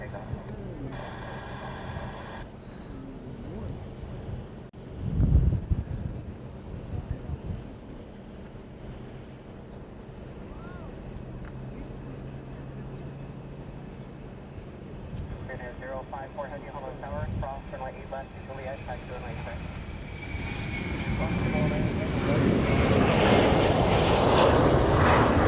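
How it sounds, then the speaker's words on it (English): A Hawaiian Airlines jet bound for Maui takes off from Honolulu, its engine roar building from far off into a loud, broad rush over the last several seconds, while someone talks earlier in the clip over traffic noise. "This is Hawaiian flight 1086. It's heading off to Maui."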